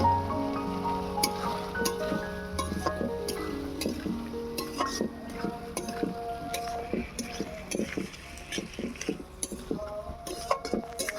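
Onion and capsicum frying for chilli soya, stirred with a metal utensil in a pan, giving repeated clinks and scrapes over a soft sizzle. Background music runs throughout.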